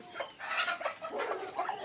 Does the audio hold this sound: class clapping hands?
no